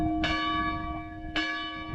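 A city church bell in Curitiba rings at noon, two loud strikes about a second apart, each toll leaving a lingering resonant hum beneath steady background noise.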